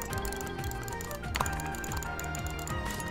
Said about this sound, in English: I'm clicking like can y'all hear this?